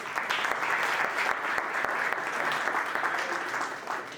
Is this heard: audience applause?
yes